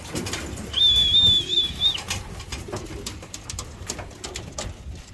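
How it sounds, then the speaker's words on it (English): Pigeons coo at close range in a flock setting, with low rumbling coos repeating through the stretch, a high whistling tone briefly over them and sporadic wing flaps and clatters. "Naughty pigeon. He's trying to shoo all the other pigeons away."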